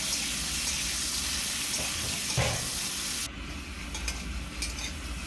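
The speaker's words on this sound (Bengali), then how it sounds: "এখন আলুটাকেও আমরা লাল করে ভেজে নেব" Sliced potatoes with salt and turmeric fry in hot oil in a pan, a steady close sizzle and hiss with occasional stirring scrapes, alone without talk.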